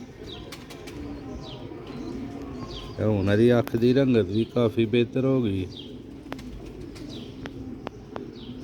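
A Sialkoti breeder pigeon coos in a loud, throaty burst of rolling notes close by, while someone talks before and after it.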